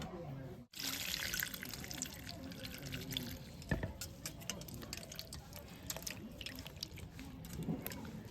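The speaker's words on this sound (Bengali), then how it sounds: "ভালো করে জল দিয়ে ধুয়ে নিব" Running tap water splashes steadily into a sink as a bottle gourd is washed, a continuous wet rush with small drips and knocks throughout, fairly close.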